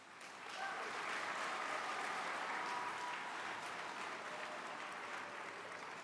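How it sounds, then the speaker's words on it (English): Sustained applause from an audience honoring youth inventor finalists at a national invention convention awards ceremony, a steady even wash of clapping that swells in after a moment and holds at a moderate, fairly distant level. "Give yourself one more round of applause."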